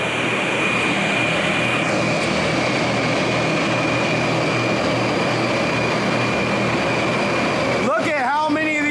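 Bank of Antminer S4 and S5 bitcoin mining machines running together in a room, a loud steady roaring fan drone with a faint high whine, continuous throughout before a brief clatter near the end.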